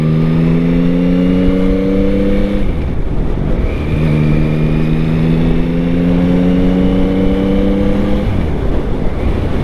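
A 2023 Yamaha MT-09 motorcycle engine revs up through rising tones, pauses briefly between gears, then climbs again, loud and close with wind rushing past.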